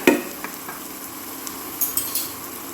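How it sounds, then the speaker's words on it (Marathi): Onion and turmeric fry in oil over a medium flame for an Agri-Koli fish thali, with a steady sizzle under sharp spoon-on-pan clinks and stirring taps, and no voices. "कांदा थोडासा शिजवून घ्यायचा आहे आपल्याला गॅसची फ्लेम मीडियमवरच ठेवली आहे"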